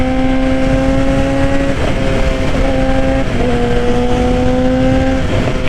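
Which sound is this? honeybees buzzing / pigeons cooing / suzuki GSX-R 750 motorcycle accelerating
suzuki GSX-R 750 motorcycle accelerating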